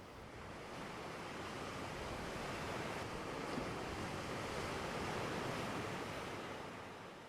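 Sea waves surge along an eroded beach at Vizag, forming a steady, dense roar of surf that swells gently and fades slightly at the end, with no voices.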